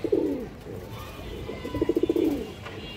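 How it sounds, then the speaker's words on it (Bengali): A male Afsan Baga, or silver, breeder pigeon coos close by in two throaty bursts, the second a rapid pulsing run, over a quiet background. "এখানে একটা নর কবুতর আছে মাশাআল্লাহ, যে দেখেন এটা হচ্ছে একটা আফসান বাগা বা সিলভার কবুতর"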